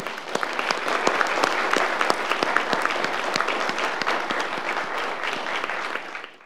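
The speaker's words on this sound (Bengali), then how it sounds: "এমপিকে সবাই জোরে তালি দিয়ে অভিনন্দন জানাই।" An audience at a shadow parliament debate competition on climate applauds the chief guest, a dense, steady round of clapping from many hands that fades out at the end.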